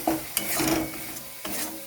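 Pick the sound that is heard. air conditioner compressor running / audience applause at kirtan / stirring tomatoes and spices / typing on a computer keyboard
stirring tomatoes and spices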